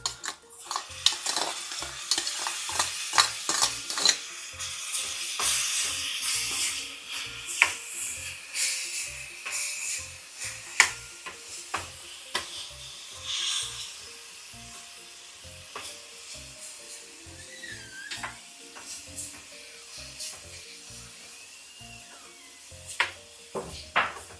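A spatula scrapes and taps against a pan in quick repeated strokes while elephant foot yam sizzles steadily underneath, sautéed for pachadi.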